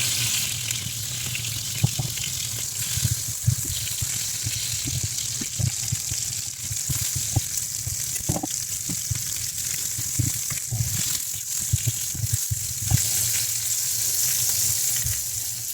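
Pork seasoned with black pepper, white pepper and salt sizzles steadily in a hot pan over high heat, a continuous close crackle with scattered louder pops throughout.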